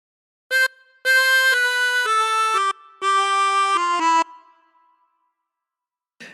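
Chromatic harmonica plays a short melodic phrase from Joy to the World, a run of reedy held notes in two bursts with a brief pause between, close and clear, then fading to silence with no talking.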